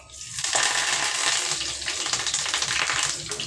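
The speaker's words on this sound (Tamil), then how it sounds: "கூட கொஞ்சம் கருவேப்பிலை போட்டுக்குவோம்" Curry leaves hit hot oil with crisp cauliflower pakoda, giving a loud, steady crackling sizzle that flares up and holds throughout.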